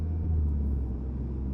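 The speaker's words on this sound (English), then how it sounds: "this car pulls so nicely, so cleanly" A car accelerates on an outer ring road, heard from inside as a deep, steady engine and road rumble, close and continuous with no talk.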